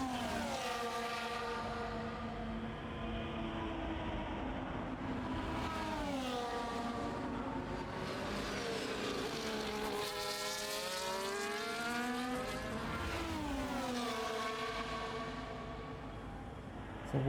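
Race cars in a Netherlands Grand Prix race sim, engines wailing as they overtake one another, with pitch sweeping up and down through gear changes as several cars pass close by.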